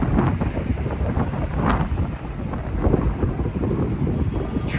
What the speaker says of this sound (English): I think it's getting windy